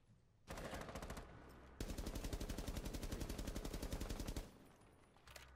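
Automatic gunfire is aimed at a barricade in the video game Rainbow Six Siege, with two long rapid strings of shots, the second steady and sustained before cutting off.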